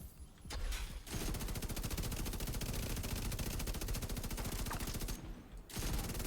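High-rate LMG (BK) fire in the video game The Division 2, a long unbroken automatic burst with a short pause near the end before shooting resumes, loud and close.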